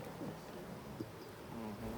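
A honey bee colony on a hive frame, a soft continuous buzzing hum from many bees, steady and close with no talk.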